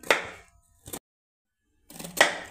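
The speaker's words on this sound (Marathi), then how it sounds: "तर बघा मी असा एकदम बारीक असा कोबी कापून घेत आहे इथे" Cabbage being finely chopped with a knife, heard as a few short, crisp bursts of blade work on a board separated by a long silent gap, close and fairly quiet, with no talking.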